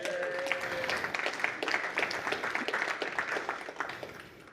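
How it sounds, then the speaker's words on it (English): Conference audience at a games industry summit breaks into sustained applause, a dense steady wash of many hands clapping at moderate distance, holding evenly throughout. "please give them a warm round of applause"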